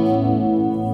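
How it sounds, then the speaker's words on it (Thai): An electric guitar played through a NUX Analog Chorus pedal, with width and blend set high and a moderate speed, rings a single sustained chord with a shimmering, wavering chorus tone. "ก็ได้คอรัสแบบที่ต้องการแล้ว"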